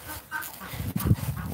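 Farm chickens at the coop give short clucks and low murmurs, close by and moderately loud over a brief stretch.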